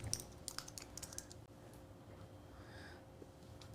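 Quick light keystrokes tap on a computer keyboard, a run of close clicks at the start, then sparser taps in a quiet room.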